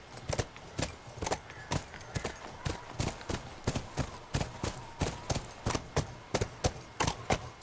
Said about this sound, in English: And in Naughty Dog fashion, we are on a horse.